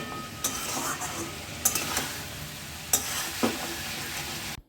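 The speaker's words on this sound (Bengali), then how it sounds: "নেড়ে চেড়ে দিলাম মাছ," Koi fish curry with spices and sugar is stirred in a pan, a low sizzle underneath a few sharp scraping clinks of a spatula against metal.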